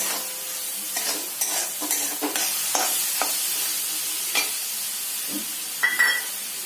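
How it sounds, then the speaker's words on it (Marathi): Tomato puree for a desi-style pasta is stirred and mixed in a hot pan, with repeated spoon scrapes and taps over a steady close sizzle. "छान असं थोडंसं मिक्स करून घेऊया प्युरीला"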